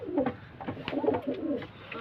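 Kept domestic pigeons in Punjab coo in soft, repeated throaty bursts, several overlapping calls close by with brief pauses between them.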